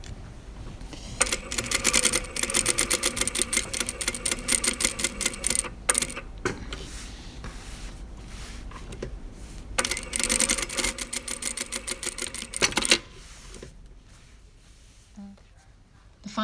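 A sewing machine stitches the pocket bag of a pair of jeans in two loud rapid bursts, its fast regular needle clatter running for several seconds each time, with quieter pauses between and afterwards.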